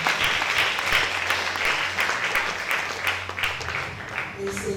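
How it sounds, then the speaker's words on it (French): A church congregation claps along in sustained, dense applause with a loud voice speaking over it, the clapping continuing steadily throughout. "Acclamez pour Jésus."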